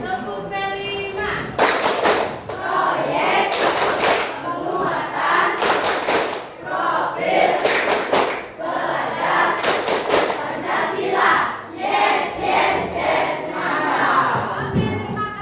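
Schoolchildren in a classroom clapping a rhythmic group pattern, sharp unison bursts of claps spaced in a repeating beat, mixed with loud shouted chanting voices from the whole class.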